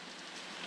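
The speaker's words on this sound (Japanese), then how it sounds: "最近ずっと雨だな。" Steady rain falling in the video game Project Sekai Colorful Stage, a soft, even hiss that is faint and brief, with no voices.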